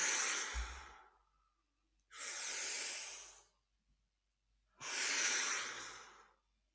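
Three long, loud breaths in and out during a guided meditation session, each a broad airy rush lasting about a second or more and separated by short pauses, with nobody speaking.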